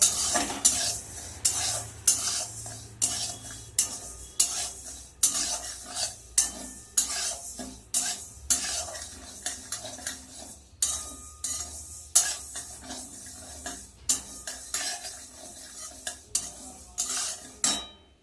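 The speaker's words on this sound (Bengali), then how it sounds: "মুগের ডালটা কিন্তু আমি ভেজে নিচ্ছি একটু হালকা করে ভেজে নেব" Moong dal lightly dry-fried in a pan, stirred constantly: a dense run of rhythmic scraping and rattling strokes from a spatula against metal, each stroke sharp and close, with a faint sizzle beneath.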